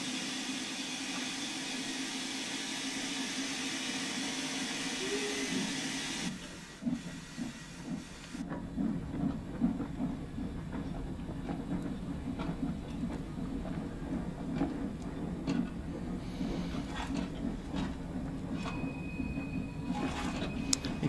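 A Stanier 8F steam freight locomotive in Train Sim World 2 hisses and rumbles steadily, a broad steam hiss giving way to a chuffing, rattling rolling sound with a faint high whistle-like tone near the end.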